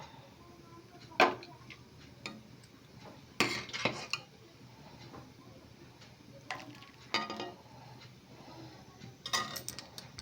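A spoon stirs and scrapes milk in a pot for nolen gur payesh, faint clinks and taps scattered irregularly over a quiet background, with a few sharper metallic knocks.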